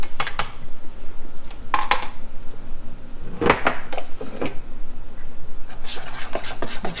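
Utensil clinks and scrapes against a bowl while Thai fish cake mixture with fish sauce and sugar is stirred, irregular sharp taps spaced over several seconds, close and fairly loud.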